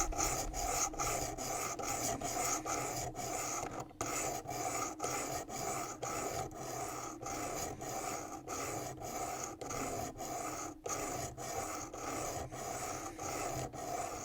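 Steady, evenly spaced abrasive strokes of a knife blade on a WorkSharp Precision Adjust sharpener, a long run of rhythmic rasping passes roughly twice per second, close and continuous with no speech.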